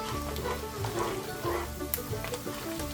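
Minced onion stirred into a sizzling pan while making steak Diane, a steady close frying crackle with scraping stir strokes and one sharp clink.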